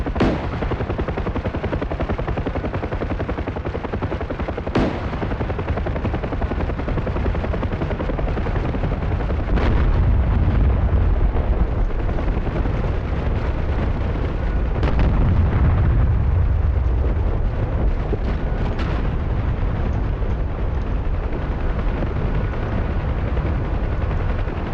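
Artillery rounds exploding around a UH-1H helicopter in the DCS flight simulator, heavy booms and sharp cracks landing one after another over the steady, loud rotor drone of the Huey.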